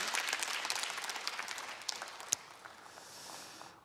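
An audience at a public lecture on happy married life applauds steadily, a dense wash of many hands clapping that gradually thins and fades out near the end, with no talk over it.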